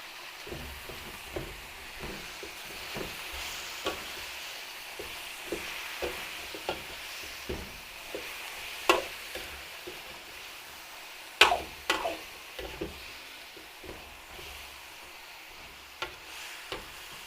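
Marinated beef for beef with broccoli sizzles softly in a pan while a utensil stirs it, giving a steady frying hiss broken by irregular scraping clacks, some sharper and louder, with no talk.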